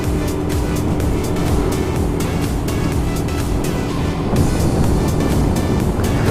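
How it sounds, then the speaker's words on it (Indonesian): A 115 cc motorcycle carrying a rider over 80 kg strains up a hill on a rural road, its engine a loud, steady roar mixed with wind rush that runs without a break. "Oh, nggak ada tenaganya ini ya, maklumlah motor 115 cc dengan berat pengemudi di atas 80 kg"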